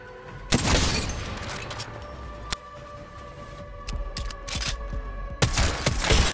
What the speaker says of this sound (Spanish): Ahora probemos con disparos a la cabeza.